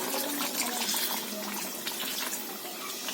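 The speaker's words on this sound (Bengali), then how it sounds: "একটু জল দিয়ে দিচ্ছি।" A little water is poured into a pot of simmering chicken curry, making a soft, steady splashing trickle that stays fairly quiet and tapers slightly toward the end, with no talking.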